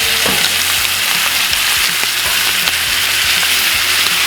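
Butter sizzles in a hot pan with steaks, a loud continuous frying hiss with small crackles and pops, close and steady with no talking.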